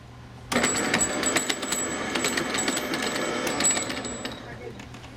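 An electric grain grinder runs loud and steady, starting abruptly after a half-second of quiet and holding a constant whine with rattling, clicking texture throughout, meant for grinding dent corn into tortilla and tamale dough.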